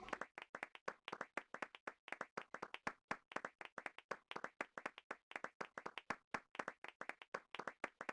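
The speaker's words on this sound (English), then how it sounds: "Slow claps." A single pair of hands claps slowly and steadily, one sharp, close clap after another in an even rhythm, alone with no talk.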